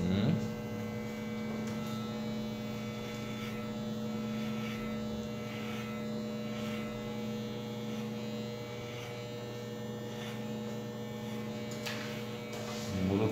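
An electric hair clipper buzzes steadily and close through a surfer-style haircut, a constant mid-pitched hum with slight variations as the clipper moves over the head, and no talking.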